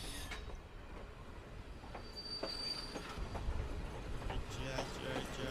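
A passenger train rolls along the rails in the evening with a steady rumbling roar, rhythmic clicks and a thin high wheel squeal running throughout.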